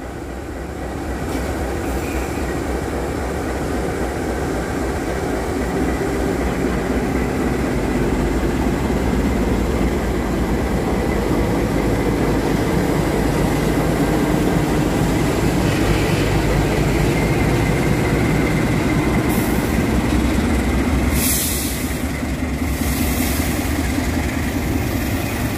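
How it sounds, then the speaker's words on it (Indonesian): A slow special work train hauling 50-meter rails rolls past at about 15 km/h, a loud, steady rumble with rhythmic wheel clatter and engine drone lasting over twenty seconds, with a few brief squeals near the end. "Ditambah lagi KLB rel ini kan pengangkut rel gitu, beda dengan kereta penumpang."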